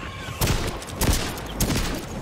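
Gunfire and explosions in the shooter Second Extinction, a few sharp bursts spaced about half a second apart over a busy game background.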